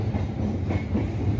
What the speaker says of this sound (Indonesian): Ya, ini keretanya akan belok ya.